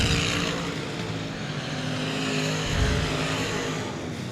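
Race cars roar around Cotton Bowl Speedway into turn three in the closing laps, a loud, continuous blended engine drone that swells slightly as the pack passes, with no voices over it.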